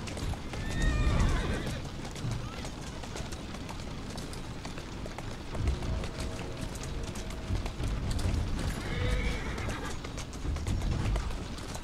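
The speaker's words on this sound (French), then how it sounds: "C'est qui le bon cheval ?" A horse in the video game Assassin's Creed Syndicate whinnies twice, near the start and again near the end, over continuous clip-clopping hooves and ambient game noise.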